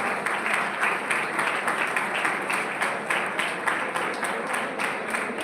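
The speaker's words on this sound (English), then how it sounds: "Please give them a huge round of applause." An audience at a B.Tech student orientation program claps in a steady, even wash of many hands, moderately loud and continuous for the full stretch.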